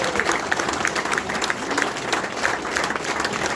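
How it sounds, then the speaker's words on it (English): A crowd at a veterans' honoring ceremony applauds steadily, many hands clapping at once in a sustained, moderately distant wash of sound. "another round of applause for our Quilt of Valor recipients"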